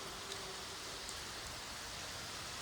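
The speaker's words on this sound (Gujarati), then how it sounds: "જો અટાણે સારો વરસાદ આવે છે" Steady rain falls evenly, a soft continuous hiss of drops on surfaces with no voices, fairly faint and unchanging throughout.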